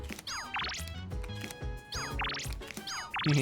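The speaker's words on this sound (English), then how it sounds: "He just keeps opening and closing his phone." A phone in the game Persona 3 Reload flips open and shut repeatedly, giving short clicks with bright rising chime tones in a quick looping pattern over light background music.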